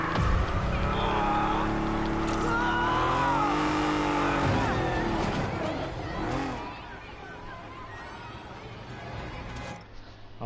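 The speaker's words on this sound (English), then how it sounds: "It seems that car takedowns in Marvel Spider-Man 2 have improved as well." A car takedown in Marvel's Spider-Man 2 plays out as engines roar and whine, tires squeal, and crashes sound amid busy game effects, with voices talking over much of it before the noise thins out.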